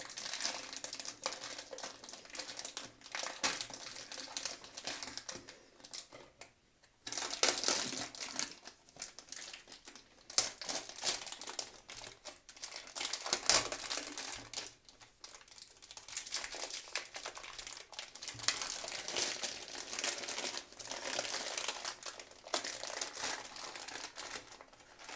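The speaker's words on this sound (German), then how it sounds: "jetzt können wir unsere Tüte so ein bisschen einschneiden und unser Substrat vorsichtig rausholen" A plastic bag holding a shiitake substrate block is cut open and the block eased out, giving continuous close crinkling and rustling of plastic with brief pauses, and no talk.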